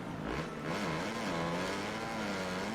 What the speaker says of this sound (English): Maybe not be lugging the bike in 3rd gear